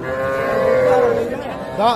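A single long, loud moo from a Sahiwal heifer close by at a cattle market, followed by a brief rising second call at the end.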